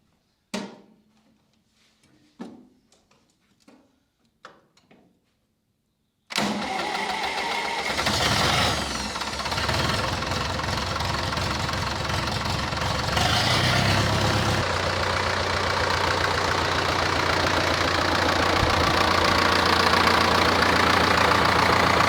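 Zetor tractor under gearbox repair: a few sharp knocks and clacks, then the engine starts and runs at a loud steady idle close by, with a deeper tone joining partway through as it keeps running.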